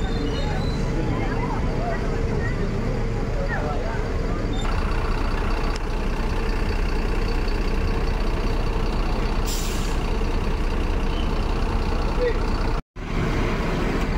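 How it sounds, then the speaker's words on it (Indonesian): A bus pulls into Poris bus terminal with a steady heavy engine drone, an air-brake hiss near the end and a crowd murmuring in the busy terminal. "Bus kedua Sumbar masuk di Terminal Poris."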